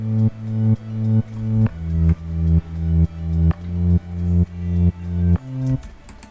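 Progressive house bass with sidechain volume automation pumps in a steady rhythm. Each sustained note swells back in after being ducked, about twelve even pulses, loud and upfront, with a chord change midway and a brief tail at the end.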